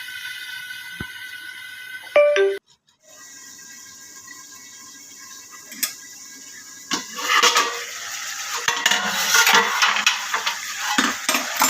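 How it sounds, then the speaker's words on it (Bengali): Pumpkin and potato pieces stirred in a pan produce scattered metal clinks and scraping at first, a brief gap, then a continuous close sizzle with spoon scrapes building up. "আলু কুমড়া দিয়ে নাড়াচাড়া করে"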